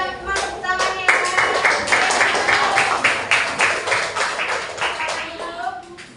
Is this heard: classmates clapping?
yes